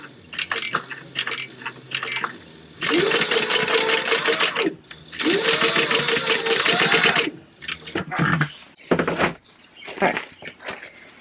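Sewing machine stitching a Pokemon book bag with a size 12 needle. Loud, close bursts of rapid mechanical whirring in several long runs, broken by pauses with clicks and fabric handling.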